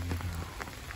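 Steady rain falling outdoors at night, a soft continuous patter of drops on surfaces with no voices.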